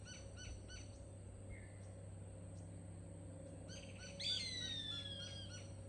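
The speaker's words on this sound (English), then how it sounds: "Play it one more time here so we can listen to it again." A recorded gray hawk call plays back: a few short chirps early on, then a loud, clear, descending whistled scream near the end, over a steady low electronic hum.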